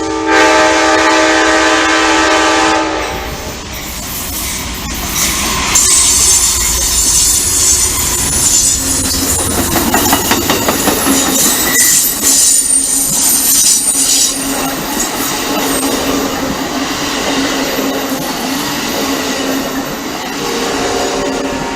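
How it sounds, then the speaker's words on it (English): An Amtrak passenger train at Roberts sounds a loud horn blast, then rumbles past with clattering wheels and a faint squeal, staying close and loud throughout. "Here comes Amtrak."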